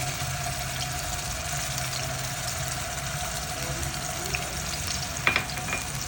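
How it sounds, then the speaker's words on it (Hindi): Steady low sizzling of garlic ginger paste with chopped green chillies frying in a pan, continuous and close, with a couple of faint clinks near the end. "अब अच्छे से इसे फ्राई करना है कि लहसुन अदरक का कच्चापन अच्छे से दूर हो जाए"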